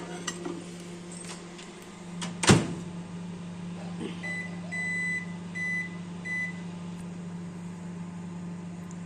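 An IFB microwave oven runs with a steady low hum, broken by a sharp clunk partway through and then a series of short high beeps, with no talking.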